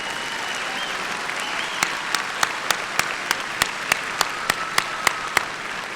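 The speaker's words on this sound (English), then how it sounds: "stand and accept the applause of these students for your guidance, wisdom, and support" Commencement audience of graduating students applauding faculty in a large hall, a broad sustained wash of clapping with a few sharp, louder individual claps standing out in a regular rhythm.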